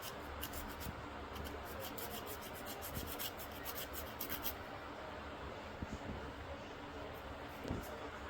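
Fingernails filed with a sand scraper during a home nail art session, giving a steady, close abrasive rasp of rapid strokes that fades partway through, with a few soft knocks near the end.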